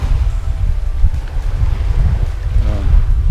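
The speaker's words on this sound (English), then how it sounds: "the wind blowing under my hat onto my bald head" Night wind blowing along the shore at Herne Bay, a steady low rumbling rush with microphone buffeting, likely mixed with the sound of the sea, continuous and fairly loud with no talking.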